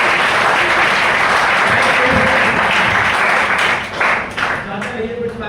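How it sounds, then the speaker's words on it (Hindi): Loud, sustained applause from an audience at a training workshop in Panipat, steady dense clapping that thins out near the end as voices begin to come through. "चाहूंगा अजय सर के लिए एक बार जोरदार ताली।"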